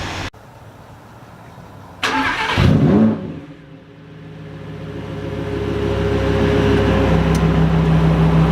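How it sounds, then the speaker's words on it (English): Lamborghini Huracan Performante in Corsa mode: a sharp thud, then a loud burst as the engine fires and revs, settling into a steady rising drone that builds toward the end. "Rev it up in Corsa mode."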